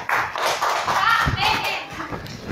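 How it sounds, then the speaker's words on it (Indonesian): A classroom of children claps in applause, a short burst of uneven hand claps with thumps, mixed with children's voices and chatter. "tepuk tangan untuk hari ini"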